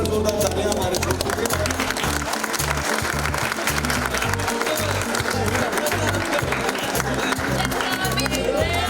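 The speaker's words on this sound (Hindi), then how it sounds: "एक बार जोरदार तालियां" Applause and cheering at an on-set celebration marking a TV serial's 100th episode, dense, loud clapping from a crowd filling the whole stretch, with voices mixed in.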